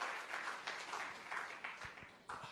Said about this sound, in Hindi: उसका करतल ध्वनि से, तालियों से स्वागत अवश्य होना चाहिए